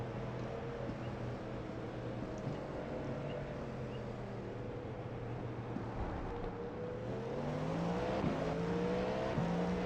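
Cadillac V-Series.R LMDh prototype race cars in iRacing get underway from a race start, a dense steady engine drone with layered rising pitches as the pack accelerates, continuous and loud throughout.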